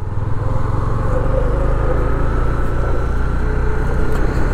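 A 2023 Honda CB300F motorcycle being ridden, its engine droning steadily and loudly up close with a constant low rumble and wind noise throughout.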